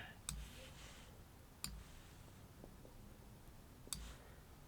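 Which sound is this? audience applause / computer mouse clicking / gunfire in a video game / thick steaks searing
computer mouse clicking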